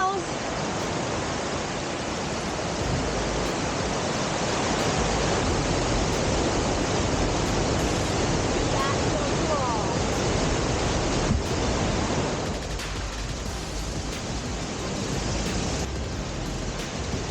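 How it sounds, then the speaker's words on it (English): Eugenia Falls, a 30-meter waterfall, roars as a steady, dense wash of water noise that stays loud and constant throughout, close by and without pause. "Now into Eugenia Falls, a brilliant 30-meter tall waterfall."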